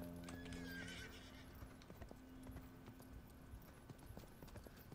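Galloping hoofbeats clip-clop alongside a horse's whinny in the video game Rustler, the neigh rising early over steady trotting footfalls, game audio fairly quiet with no talking.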